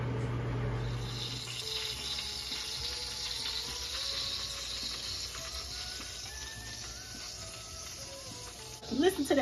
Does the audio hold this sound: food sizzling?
yes